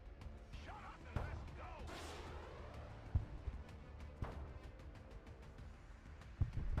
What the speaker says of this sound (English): Mortars hitting those buildings there